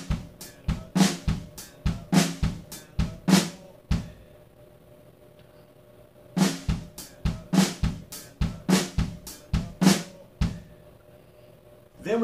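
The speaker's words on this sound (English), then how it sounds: "we're filling in the 8th notes with the hi-hats, and the 16th notes with the kick drum" A drum groove from a song cover, with eighth-note hi-hats and sixteenth-note kick drum: two close, crisp bursts of tight rhythmic hits separated by a short pause.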